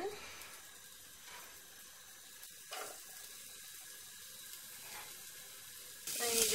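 Onion pieces frying in hot oil in a pan for spaghetti bolognese give a steady, faint, close sizzle. The hiss runs on throughout, with a few brief louder bursts, and swells near the end.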